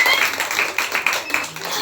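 A church congregation claps hands during a worship service, a brief burst of mixed clapping at moderate distance with crowd noise beneath.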